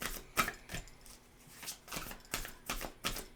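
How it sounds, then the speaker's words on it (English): Tarot cards being shuffled in quick, uneven riffling bursts, close and fairly quiet, repeating about a dozen times with short gaps between them. "Shuffle, shuffle, shuffle."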